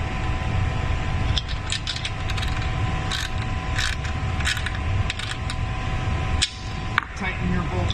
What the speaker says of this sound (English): Tighten your bolt down.